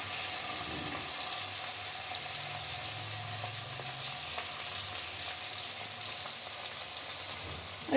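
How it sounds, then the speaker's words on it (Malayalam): A few tomatoes fry in oil while cooking Kerala-style quail fry, giving a continuous bright hiss and crackle that stays even and close throughout, with faint stirring sounds underneath and no speech. "ഈ എണ്ണയ്ക്കകത്തോട്ടെങ്കിൽ ആ തക്കാളിക്ക ഫ്രൈ ആക്കി എടുക്കാം"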